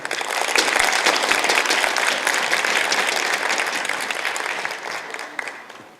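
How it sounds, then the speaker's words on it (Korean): Party members at a joint campaign speech event in Incheon break into dense, continuous applause that swells early, holds loud, and gradually tapers off toward the end. "박수와 함께 시작하도록 하겠습니다."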